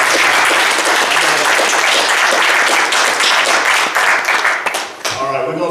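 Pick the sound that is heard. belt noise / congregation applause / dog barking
congregation applause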